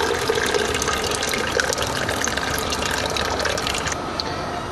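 Water trickles and drips steadily from a steeped grain bag into a pot during home beer brewing, a continuous close, wet splashing patter.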